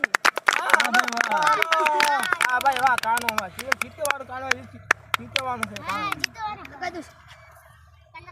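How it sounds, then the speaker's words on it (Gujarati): Crowd applause during a comedy game challenge of holding weight on outstretched hands: scattered sharp hand claps rattle through lively talk and excited voices, fading toward the end. "સરસ સરસ તાળીઓ પાડો આમની માટે"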